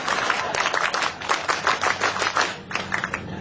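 A crowd does the Indonesian scout clap together in quick bursts, a dense patter of many hands close by in a rhythmic pattern.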